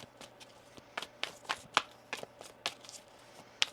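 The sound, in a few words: shuffling a deck of cards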